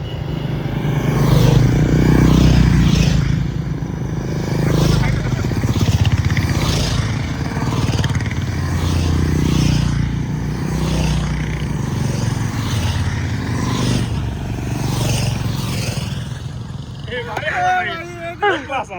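Motorcycle ridden along a road on the way to Ekole valley, a steady close engine drone with wind rumble running throughout, faint voices underneath, and a brief tonal sound near the end.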